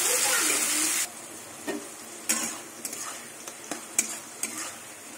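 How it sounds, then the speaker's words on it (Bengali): Prawns frying with onion in a kadai: a loud hiss at the start that cuts off abruptly, followed by scattered spatula scrapes and clinks against the pan, up close, with no voices. "চিংড়ি মাছটা কিছুক্ষণ ভাজবো"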